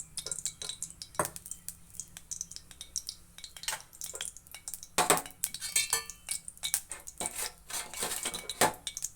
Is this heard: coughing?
no